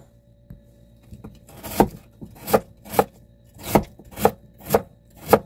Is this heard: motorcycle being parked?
no